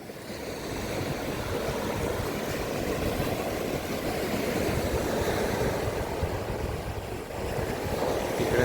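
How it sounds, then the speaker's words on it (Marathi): Sea surf at Shiroda beach near Vengurla on the Konkan coast, a steady broad roar of breaking waves with wind rushing over the microphone, continuous and fairly loud throughout with no voices. "गाज आहे का समुद्राची, वाह."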